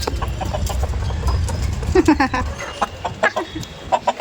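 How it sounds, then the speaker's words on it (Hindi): A rooster and hen cluck on a rooftop, the short clucks close and fairly clear over a constant outdoor background, with someone speaking briefly between them. "ये देखो हमारा मुर्गा मुर्गी"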